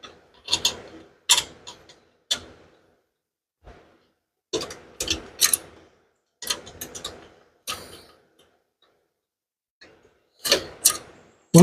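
Bursts of ratcheting clicks from a wrench tightening a bolt during a turbo install, coming in short separate spurts with quiet gaps between them, close by and fairly loud.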